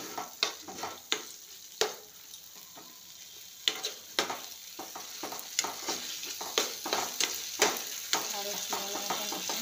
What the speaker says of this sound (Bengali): ক্যাপসিকাম দিয়ে ভালো করে মশলার সঙ্গে একটু মিশিয়ে নেব।